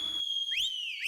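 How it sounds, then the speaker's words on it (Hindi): A whistle blown in three bright, piercing blasts, the first held steady and the next two sliding upward in pitch, loud and close with no talking. "सीटी।"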